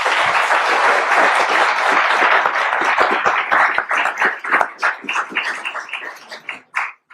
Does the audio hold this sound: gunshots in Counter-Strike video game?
no